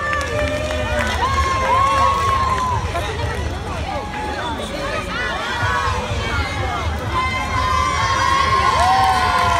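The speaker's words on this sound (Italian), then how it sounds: "Facciamo un grande applauso." A crowd of children cheers and shouts at a youth sports tournament award ceremony as an under-age team is honoured; loud, continuous excited voices and hubbub fill the whole stretch, with adults talking amid the noise.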